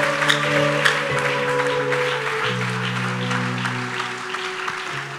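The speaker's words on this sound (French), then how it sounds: "Et on acclame très fort" A church congregation applauds loudly, a steady wash of clapping with sustained organ or keyboard chords underneath throughout.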